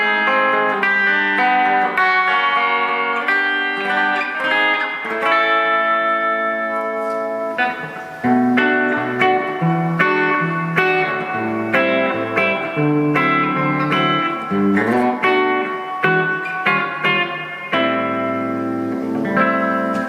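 Electric guitar playing picked chords and melodic notes through a Laney digital reverb mini pedal, with a steady wash of reverb tail behind each note, loud and continuous with no talk.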